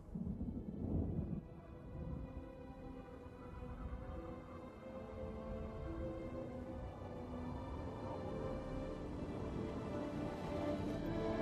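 A heavy thunderstorm, with a low thunder rumble up front giving way to a dense, steady wash of rain and storm noise that holds for the rest of the stretch, no voices present.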